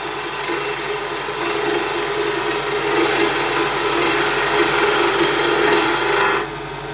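Skew chisel cutting a spinning wood blank on a lathe, a steady rasping, shaving hiss with a low motor hum underneath, continuous and fairly loud before easing off near the end.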